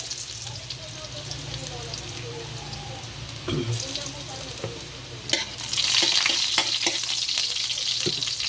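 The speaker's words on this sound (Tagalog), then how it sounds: "Gigisa lang tayo ng bawang." Garlic sautéing in a pan for a Filipino pakbet, a steady close sizzle with a louder burst of frying and stirring near the end as more goes in.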